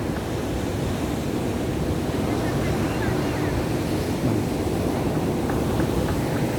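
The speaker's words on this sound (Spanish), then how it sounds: "Vamos a dejarlo grabando así con el sonido del mar aquí" Continuous rumbling wash of ocean surf along a seafront promenade in El Salvador, heavy low-end roar with wind buffeting the microphone, steady and loud with no distinct pauses.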